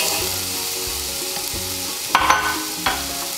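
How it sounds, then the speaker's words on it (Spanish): Green bell pepper sautés in a little margarine, giving a steady close sizzle with a couple of brief utensil scrapes and clinks near the end; no one speaks. "Nomás un poquitito para poder sofreír el chile verde morrón."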